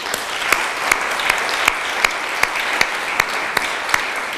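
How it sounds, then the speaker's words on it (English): Loud, dense applause from a crowd at a sister city signing ceremony, steady clapping throughout with a few sharper claps standing out. "let's give the folks from Zadar a round of applause too."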